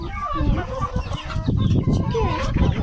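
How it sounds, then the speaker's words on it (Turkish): Chickens cluck close by in an outdoor flock with a big rooster, giving busy overlapping clucks and short squawks over a low rumble of background noise. "Baksana şurada kocaman bir tane horoz var kızım baksana horoza."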